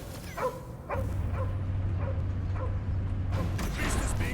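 A dog barks repeatedly in the Guardians of the Galaxy video game, sharp yips spaced roughly every half second amid mechanical creaking and a low steady hum, then a louder burst of noise near the end.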